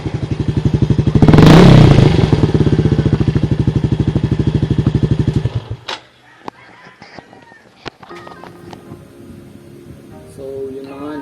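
A motorcycle with its Exos X6 silencer removed revs loud and close for about five seconds with a rapid pulsing exhaust note, then cuts off, leaving faint clatter and thumps with a few brief sounds afterward.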